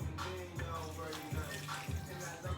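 Water pours and splashes in a steady stream into a high-speed blender, with a few gurgling surges, close by and without talk.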